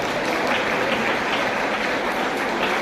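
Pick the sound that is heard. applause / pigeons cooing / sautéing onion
applause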